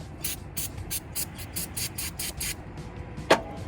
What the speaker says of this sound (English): spraying a little bit of brake parts cleaner directly onto a rag